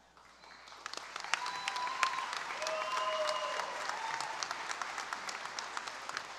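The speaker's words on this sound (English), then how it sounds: "One last round of applause for our RN graduates." At a nursing pinning ceremony for RN graduates, an audience breaks into applause that swells and holds steady, with scattered individual claps and a few faint whistles or cheers over the crowd.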